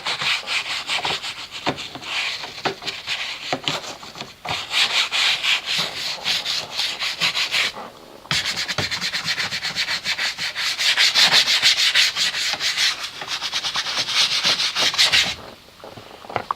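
Brush scrubbing a surface with an all-purpose cleaner, close rapid back-and-forth rubbing strokes in bursts, with short pauses between rounds.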